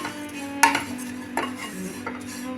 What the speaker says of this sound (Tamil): இதை நல்லா மொறுன்னு 2 நிமிஷத்துக்கு வறுத்துக்கணும்